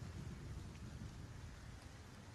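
Steady rain falls, with a constant broadband hiss of drops hitting surfaces close by and no voices.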